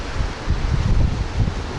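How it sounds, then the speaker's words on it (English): Wind buffeting a microphone outdoors near the ocean on a rainy, windy day with northeast winds, a steady low rumbling roar with gusty swells, no voices. "It's gonna be a windy day."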